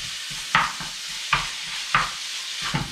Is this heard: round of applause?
no